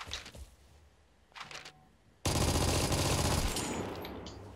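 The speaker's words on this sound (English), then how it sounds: "Tracer shots!" Tracer rounds fired in a video game, sparse shots at first, then a sustained loud burst of rapid gunfire that gradually fades, close, with no talking over it.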